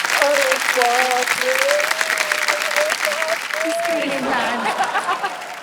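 A studio audience on the quiz show KBC gives loud, continuous applause to welcome a guest, while voices call out and speak over the clapping.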